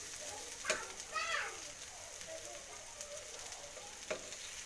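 Raw banana slices frying in a pan as they are flipped, a steady soft sizzle with a few brief scraping clatters of the turner, heard fairly close.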